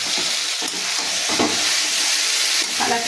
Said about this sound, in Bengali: আলু পেঁয়াজ মটরশুঁটি মশলার সঙ্গে খুব ভালো করে আমি কষে নিয়েছি